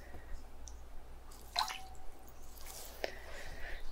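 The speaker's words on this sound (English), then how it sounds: "you can put this hand into the water and just start rinsing some of that salt away" A hand dipped into a bowl of water to rinse off salt scrub during a close binaural spa hand treatment, with a few soft drips and wet squishes over quiet background, no talking.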